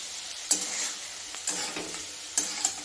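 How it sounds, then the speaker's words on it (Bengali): A spoon stirs masala frying in a pan for rohu fish curry, with a continuous sizzle and a few sharp scrapes and clinks of the utensil against the pan. "মশলাটা একটু কষতে থাক।"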